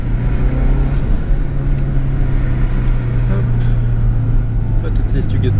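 A 1995 Subaru Impreza WRX STI driving on a road in Japan, a steady low engine drone and road rumble heard from inside the car, loud and constant, with a voice talking over it.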